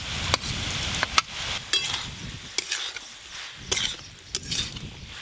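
Fried shrimp being stirred into well-boiled ash gourd in a pan, giving irregular scraping and clattering strokes of a spatula against the metal with a soft sizzle under them, close and moderately loud, with no talking.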